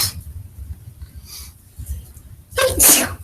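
A single sharp sneeze bursts out near the end of a Senate meeting roll call, loud and close after a few seconds of quiet room murmur.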